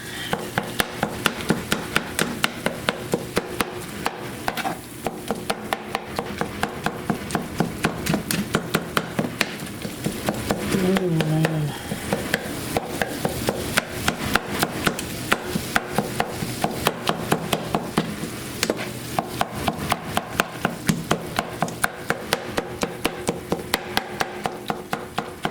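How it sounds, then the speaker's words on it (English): Meat being chopped in a pan as it cooks, a steady rhythmic tapping of a utensil against the pan repeating throughout, with a brief spoken remark partway through. "I'm constantly chopping the meat as it cooks."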